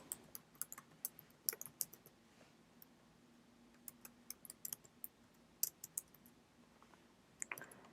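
Computer keyboard typing out an SQL query in an Oracle database, a faint run of irregular clicky keystrokes in short bursts with brief pauses, close and alone.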